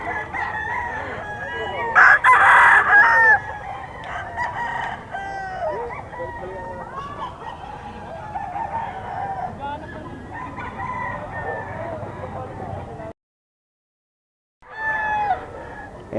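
Kelso gamecock roosters crow and cluck at a Bocaue poultry market, several overlapping calls, loudest early on, with bird sounds running throughout, a brief silent gap near the end, and some speech mixed in.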